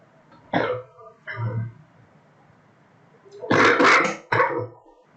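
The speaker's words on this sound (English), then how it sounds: "Sorry, I'm having a little cough." Several harsh coughs close to the microphone, two short ones and then a louder double burst, separated by quiet pauses.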